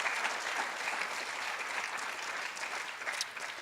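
Steady applause from an audience at a graduation ceremony, a fairly distant wash of many hands clapping continuously without voices.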